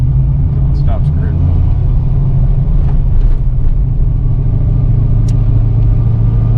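A Vortech-supercharged Foxbody notchback Mustang 5.0, a former SSP police car, drives along with a constant loud, low engine rumble heard from inside the car, while voices talk over it.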